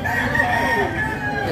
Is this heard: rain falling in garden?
no